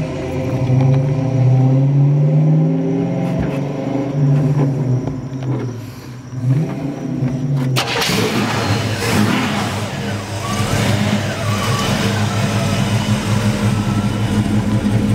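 A 1971 Chevrolet Camaro Z28 with a 402 engine and a 3-inch exhaust idles with a rumbling, loping note, then revs sharply midway into a loud, rough roar that stays raised to the end.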